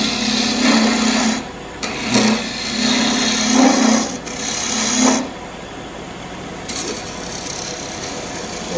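A wood lathe spins a jewelry tree workpiece while a gouge cuts in short bursts, a droning whir broken by several scraping passes before the tone drops back to a quieter hum.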